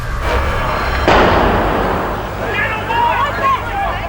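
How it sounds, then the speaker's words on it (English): A sudden loud blast, believed to involve petrol tanks, bursts out near the start of a broadband rumble, followed by a lingering roar while voices talk over it. "There's been a second explosion."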